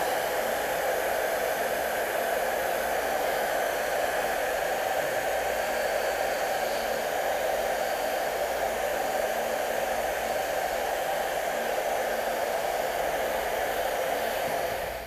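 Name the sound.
hair dryer blowing on fabric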